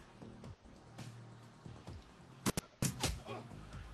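A few sharp gunshot-like cracks from an aimed pistol shot in the cyberpunk tactics game Shadowrun Returns: two close bright bursts, then a heavier blast, set among quieter game sounds.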